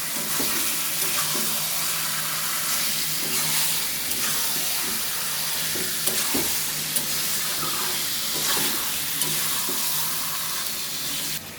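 Meat with turmeric stirred in a frying pan, a steady loud sizzle running throughout with repeated scraping strokes of the spoon against the pan, and no voices.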